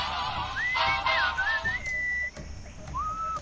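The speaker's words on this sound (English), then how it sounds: "enchanting whistling sound?" Enchanting melodic whistling in the Sam & Max: Beyond Time and Space Remastered video game, a single clear whistled tune of rising and sliding notes, held tones and short phrases over a soft background bed.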